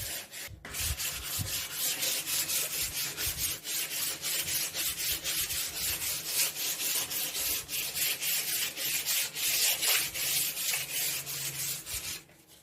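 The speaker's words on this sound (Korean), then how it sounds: "화이트 부분을 먼저 사포한 다음에 나중에 상판 브라운 컬러 사포 작업해 줍니다." Sandpaper rubbing steadily back and forth over a painted wooden storage box in quick, even strokes, a close, dry rasping texture that continues without pause and without talk.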